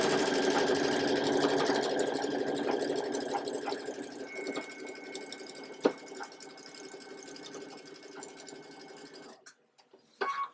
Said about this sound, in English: we're going to sew along at 1/4 inch